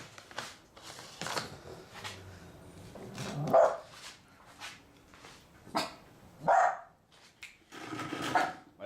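A dog barks repeatedly at a moderate distance, sharp irregular woofs spread across the stretch over a steady background of household noise.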